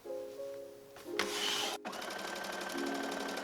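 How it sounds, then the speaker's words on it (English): A sewing machine basting along the edge of a button-up shirt's revere collar, running in a steady near whir that briefly pauses, then resumes with a continuous motor hum. "now I'm just going to go ahead and baste all along this edge"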